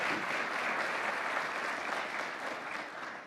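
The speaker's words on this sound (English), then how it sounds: "So let's give them another round of applause." An audience at a University of Missouri-St. Louis event gives student music performers a round of applause: dense, steady, fairly loud clapping from a large crowd that fills the whole stretch without a break and thins only slightly at the end.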